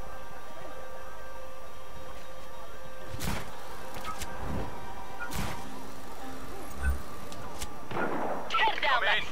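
Gunfire rings out in Just Cause 3: a handful of separate sharp shots spaced a second or more apart, heard over steady in-game ambience, with a busier burst of noise toward the end.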